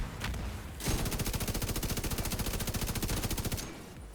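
Rapid automatic gunfire from The Division 2, a fast even burst of shots lasting about three seconds after a couple of lead-in shots, loud and continuous with no talking.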